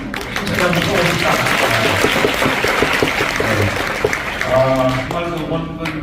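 A church congregation applauds at a Korean missionary conference in Chiang Mai, Thailand, as a preacher is welcomed; steady broadband clapping fills the room, with voices and a few spoken words mixed in toward the end.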